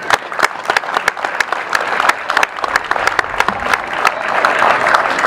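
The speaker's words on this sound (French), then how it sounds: "je propose qu'on vous applaudisse pour cet effort." An audience at a school inauguration for the Saint-Exupéry school in Ploërmel claps steadily and warmly, a dense patter of many hands sustained throughout without pause.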